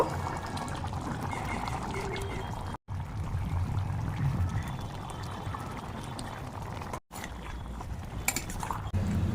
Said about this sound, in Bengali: ঝোলটা ফুটে গেছে, এবার দিয়ে দেব মাছগুলো। আর দেব বেগুনগুলো।